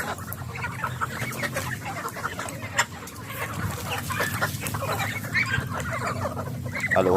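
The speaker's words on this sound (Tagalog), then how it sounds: "May native na manok, tsaka pato, bibi." Native chickens cluck steadily while being fed in a mixed farmyard flock with ducks and geese, a dense, continuous chorus of nearby clucking with occasional louder calls and no talk.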